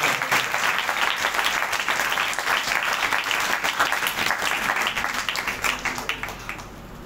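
A church congregation at a worship service breaks into loud, sustained applause, a dense wash of clapping that continues steadily for several seconds and then begins to thin out.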